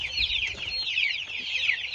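Meat chickens out on pasture cluck and chirp continuously in a close, busy flock chorus, with no talking over them.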